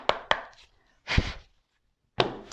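A tarot deck being cut for a reading: a few sharp, brief card snaps and one softer papery slide, separated by short silences, close and fairly loud.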